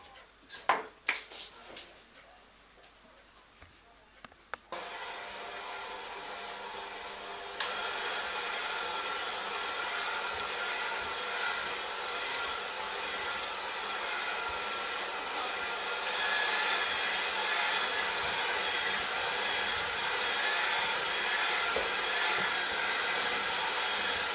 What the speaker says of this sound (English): Then we're going to start to then go to the mixer with the dough hooks.